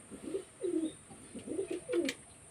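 Pigeons coo in soft, repeated phrases during a bath, five or so throaty bursts at close range, with faint water splashes between them and no talking.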